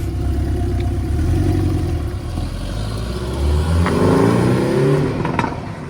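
Rebuilt Porsche GT4 engine on its first drive, a steady mid-pitched car engine note with rising revs and some clatter, loud and close throughout, no voices.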